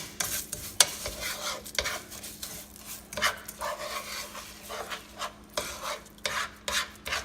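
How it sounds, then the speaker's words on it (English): A spoon stirs Rice Krispie cereal in a sticky coating, making repeated close scraping and rustling strokes in an irregular rhythm, fairly loud with no talking. "just keep stirring till all of the cereal is well coated."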